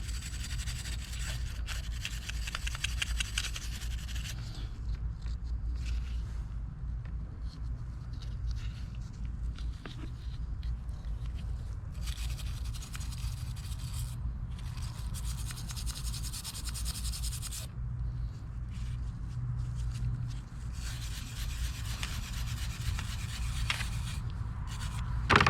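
Mercury SportJet fuel pump parts being scrubbed by hand, a steady rubbing and scratching that runs close and continuous with short pauses, over a low background hum.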